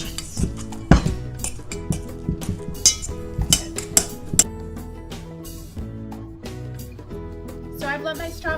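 Cream cheese and lemon peel mixed in a small bowl, with irregular clinks and scrapes of a utensil against the bowl over background music and a talking voice.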